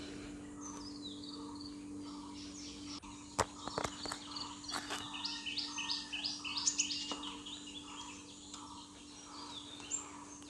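Birds chirp and sing in a quiet village along a road in Sylhet, Bangladesh, bright repeated calls over a steady insect drone, with a few footsteps and sharp taps close by.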